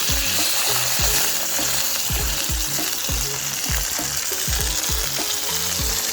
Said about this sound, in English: I'm gonna pop it in, and then we'll fry it.